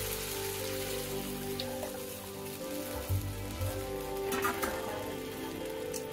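Boiled lentil paste thinned with water, poured into a hot pan for a sour mango dal, gives a continuous crackling sizzle like light rain, with a few louder splutters partway through.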